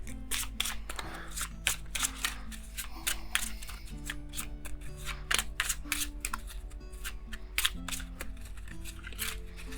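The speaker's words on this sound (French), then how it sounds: "mélanger les cartes terreur rouge et piocher en 10 au hasard" Cards for a hostage-negotiator board game are shuffled by hand, a dense run of quick riffling clicks and slaps close by over soft background music, with no talking.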